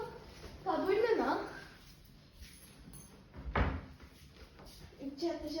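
A cupboard opened during a search for a clue, one short knock or clack standing out between bursts of nearby talking.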